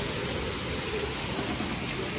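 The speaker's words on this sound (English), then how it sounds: "Oh my god, it's raining so hard." Heavy rain falling outside, a dense, loud, continuous hiss of drops hitting surfaces, steady throughout with no talk.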